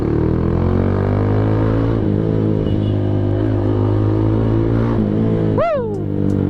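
A Z200 motorcycle fitted with an SC Project exhaust and tip idles and revs with a steady, loud, throaty drone, close by, its pitch shifting slightly before a brief sharp chirp near the end.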